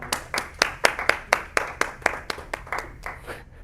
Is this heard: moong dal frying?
no